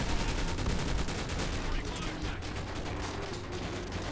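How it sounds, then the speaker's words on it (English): Sustained rapid gunfire from the World at War campaign with a modern weapons mod, loud and continuous throughout with dense overlapping shots and booming low end. "Are you shooting at me?"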